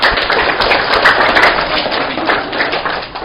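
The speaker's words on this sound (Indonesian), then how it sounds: "Tepuk tangan Pak Bu" An audience claps together steadily and loudly at a religious lecture, a dense continuous patter of many hands with no talk over it.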